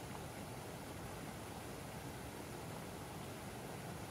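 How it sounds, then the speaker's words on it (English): Steady, full-band wash of flowing water like a stream or waterfall, a constant white-noise hiss with no variation in level, heard alone. "The sound of water can have a calming"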